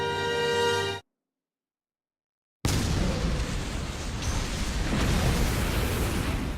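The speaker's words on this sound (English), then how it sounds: "trigger an explosion of catastrophic proportions" A catastrophic anime explosion: a loud, dense broadband roar that rumbles on for several seconds after a brief silence, preceded by a tonal musical swell.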